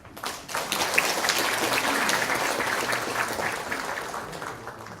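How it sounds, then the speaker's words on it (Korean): An audience at a regional city and provincial council policy forum gives warm applause as a council chair is introduced. The clapping swells quickly after a quiet start, then holds steady and dense before easing slightly. "한 분 한 분 호명할 때마다 뜨거운 박수를 맞이해 주시기 바랍니다"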